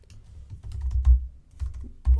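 Quick keystrokes on a computer keyboard, a short burst of close, uneven tapping with a couple of heavier presses and no voices.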